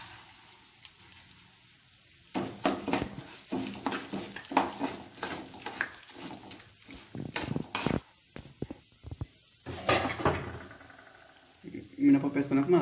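Chana dal and urad dal frying in oil in a pan on a low flame, with a soft sizzle and repeated scraping stirs and clinks of a spoon, while someone talks.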